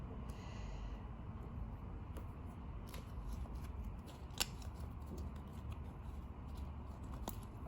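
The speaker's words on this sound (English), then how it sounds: "Well, I'm going to cut the deck." A deck of tarot cards being cut and shuffled by hand, giving soft papery riffles and light taps over a steady low background hum, with one brief sharp snap midway.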